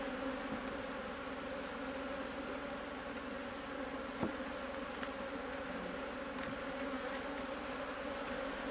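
A constant swarm-like drone of agitated honey bees fills an open hive during inspection, steady and close, with a few faint clicks and knocks of hive handling and no talking.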